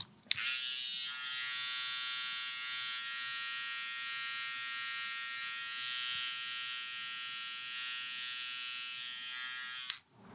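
Electric hair trimmer cutting hair at a barber's taper, a steady close high-pitched buzz running almost unbroken for about ten seconds, switched on and off at either end.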